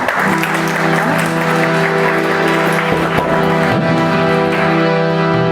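An audience in a yoga hall in Gurgaon claps continuously and loudly during a bhajan evening, steady dense applause over a sustained musical drone.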